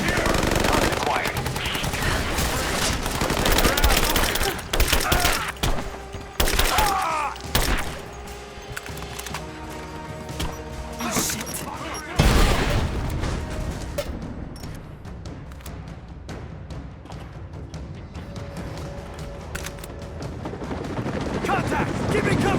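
Heavy gunfire in the video game Rise of the Tomb Raider, with dense bursts of rapid automatic shots and booming blasts that run almost without pause, loud and close, with voices under the shooting.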